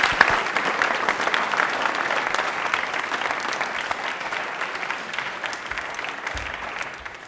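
Studio audience at a quiz show giving steady, sustained applause, dense clapping that holds for about seven seconds before tapering off.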